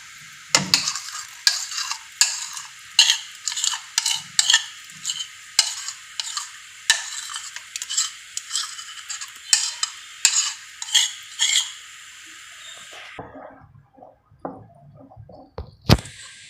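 A spoon stirring a besan mixture cooking in a pot, steady rhythmic scraping strokes against the metal about twice a second, bright and close, then slowing into a few scattered scrapes and clinks at the end.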